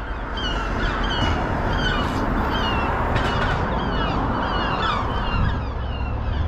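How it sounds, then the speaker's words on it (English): Gulls cry repeatedly over a dense, steady wash of outdoor noise, several birds calling at once from a moderate distance. "we can hear the dreaded seagulls, can't we?"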